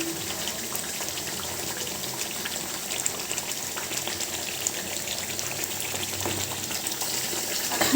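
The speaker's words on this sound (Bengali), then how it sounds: "এখন আমি এটা কষাতেই থাকবো যতক্ষণ না এটা থেকে তেল ছেড়ে এসেছে" Meat sizzling as it is stir-fried in oil for a spicy home-style roast, a steady loud hiss and crackle that goes on without break, close by and with no talk.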